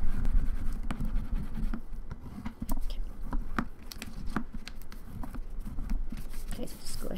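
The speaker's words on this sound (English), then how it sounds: "we're gonna take our bone folder and burnish our tape down." Bone folder rubbed firmly over tape on paper, a rapid series of scratchy strokes and taps, close and fairly loud, continuing steadily with brief pauses.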